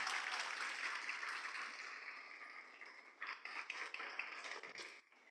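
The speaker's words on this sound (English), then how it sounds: "a quick round of applause and appreciation for their support" Audience applause at a foundation presentation evening, a steady round of clapping that thins out and turns sparse and scattered toward the end, with no voices.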